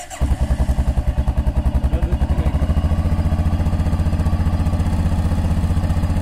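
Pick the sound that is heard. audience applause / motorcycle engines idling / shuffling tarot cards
motorcycle engines idling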